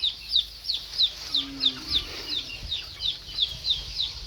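Chickens calling in a rapid, regular series of high, chirpy clucks, about three per second, steady and fairly close with no voices.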